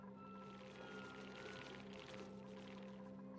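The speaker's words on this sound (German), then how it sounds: "Gut, okay, das Wasser läuft." Water flowing in the video game Oxygen Not Included, a soft continuous pouring and trickling wash that stays steady and fairly faint throughout, with a low background hum and no speech.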